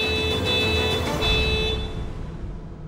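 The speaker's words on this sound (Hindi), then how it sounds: "नव्या तुम्हारा वेट कर रही है कार में, तब से हॉर्न बजा रही है" A car horn honks insistently from a waiting car, sustained steady tones held over broadband street or engine noise that fade slightly toward the end.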